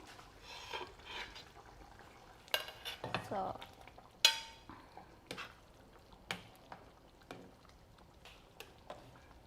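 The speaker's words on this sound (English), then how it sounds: "So now we're gonna put the meatballs. So it's the right time to put the meatballs in." Meatballs for spaghetti go into a pan, bringing a quiet, low sizzle under irregular clinks, taps and scrapes of utensils against cookware, heard up close.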